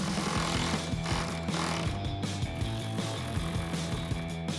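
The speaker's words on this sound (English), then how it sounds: "Grab our ratchet and tighten those down." A hand ratchet clicks in quick repeated bursts while a 10mm bolt is tightened on the front bumper of a 2024 Toyota Tacoma, close and steady with no voices.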